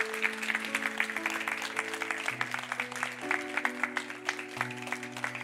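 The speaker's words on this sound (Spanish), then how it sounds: "un aplauso fuerte para los padres" Church congregation applauding fathers, grandparents and heads of household during a sermon, steady scattered clapping at moderate distance while sustained organ or keyboard chords play underneath.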